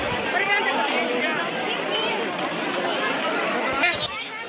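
A packed temple courtyard of devotees at Mahurgad on an amavasya day hums with overlapping chatter, loud and close, a constant babble of many voices that thins briefly near the end.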